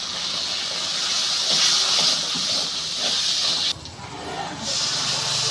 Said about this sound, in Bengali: আদা, কাঁচা লঙ্কা বাটা দিয়ে ভালো করে একটু কষিয়ে নেব।